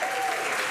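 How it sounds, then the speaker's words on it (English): A crowd at a SpaceX Falcon 9 Crew-10 launch to the ISS cheers and applauds in a steady, dense wash of clapping and voices, loud and continuous with no pauses. "The crowd is going wild."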